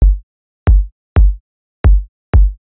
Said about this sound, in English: This is the new kick, smooth kick,